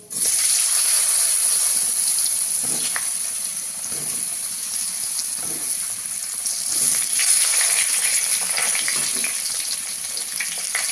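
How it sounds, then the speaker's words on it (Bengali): Cut potatoes and eggplant fry in hot oil with nigella seeds and a bay leaf, a strong steady sizzle and hiss with scattered pops and soft scraping knocks from stirring. "ভাজা তেলের মধ্যে একটু কালো জিরে ফোড়ন দেবো, একটা তেজপাতা দেবো, আর কেটে রাখা আলু আর বেগুনগুলো দিয়ে দেবো।"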